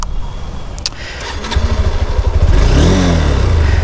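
A 2025 Honda NX200 motorcycle engine cranks and fires up, then settles into a loud, close idle with a rising rumble.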